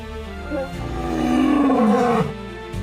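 A lion lets out a single deep, drawn-out roar that swells and falls over about two seconds, loud and close, with no other voices.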